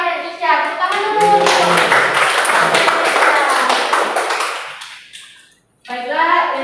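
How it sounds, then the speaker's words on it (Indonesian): Classroom applause for the winning pupils: a burst of clapping from many hands with children's voices mixed in, running several seconds before stopping briefly, then another short round of clapping. "Tepuk tangan dulu."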